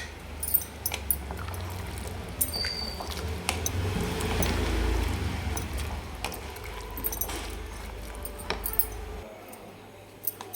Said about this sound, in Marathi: तर हे पाणी आपण सोडून घेऊ लगेच याच्यात